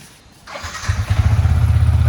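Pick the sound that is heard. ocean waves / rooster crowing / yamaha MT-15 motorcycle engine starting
yamaha MT-15 motorcycle engine starting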